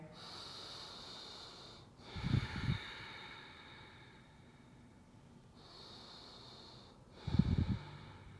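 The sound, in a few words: deep breathing during yoga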